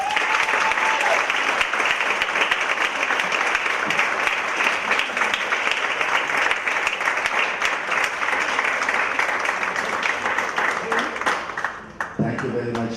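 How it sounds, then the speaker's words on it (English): An audience applauds at the close of a talk, giving loud, sustained clapping that stays dense and even for about twelve seconds before it thins out near the end. "she deserves another round of applause"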